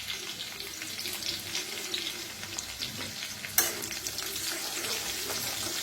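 Dried red chillies and curry leaves roasting in hot oil in a pan, giving a continuous soft sizzle and crackle with light stirring, close but fairly quiet, with one brief sharp knock partway through.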